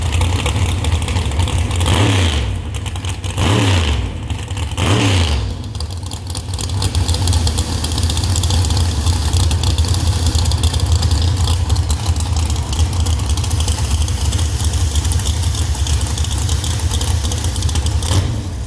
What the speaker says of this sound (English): there's another Mustang coming up. Bright blue and a bright orange Camaro.